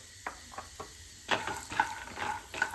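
Soft crackling sizzle of peanuts frying in hot oil, a few faint pops at first, then busier sputtering bursts, fairly quiet with no talking.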